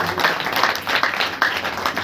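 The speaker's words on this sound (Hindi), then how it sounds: "ताली बजा करके परमेश्वर को" Congregation at a Saturday church praise meeting clapping their hands together, a dense steady patter of many overlapping claps with loud peaks, voices faintly mixed underneath.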